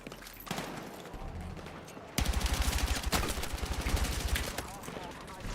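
Rapid automatic gunfire in a video game battle, loud bursts of shots in quick rhythmic succession after a quieter opening, with a voice talking over it.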